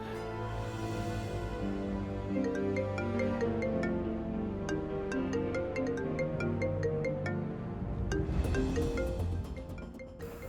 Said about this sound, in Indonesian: saya harus angkat telepon ini di luar